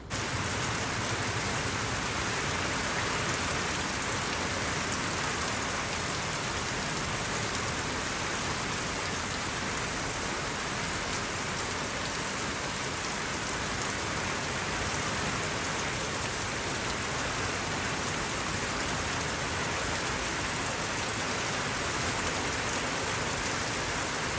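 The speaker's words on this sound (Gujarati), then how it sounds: "એકદમ મસ્ત વરસાદ ઝીણો ઝીણો આવે છે" Light, fine rain falls steadily, a soft even hiss with no breaks for the whole stretch and no voices.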